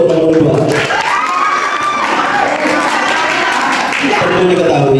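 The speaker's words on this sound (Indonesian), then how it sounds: "Boleh aplaus dulu untuk nomor 2." A school debate audience for candidate number 2 for student council bursts into loud cheering, clapping and children's shouts, a dense close crowd roar sustained throughout with voices mixed in.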